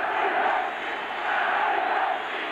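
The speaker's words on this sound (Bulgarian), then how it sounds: "Чувате и реакцията на публиката" A football crowd at a Levski Sofia versus CSKA Sofia match reacts to a poor kick by the young CSKA goalkeeper, a loud, broad, sustained roar of jeering voices swelling and easing in waves.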